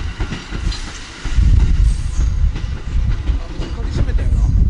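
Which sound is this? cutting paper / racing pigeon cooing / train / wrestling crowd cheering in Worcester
train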